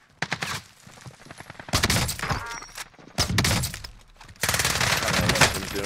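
Rapid bursts of gunfire from a shooter video game crackle in dense, loud volleys with short gaps between them, some rounds close and sharp, others more distant, with no voices over them.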